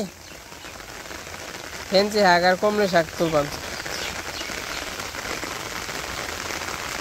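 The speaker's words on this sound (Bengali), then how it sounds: "বৃষ্টিও খুব দেখাইলো আজকে" Steady rain patters outdoors throughout, with a voice speaking briefly in the middle.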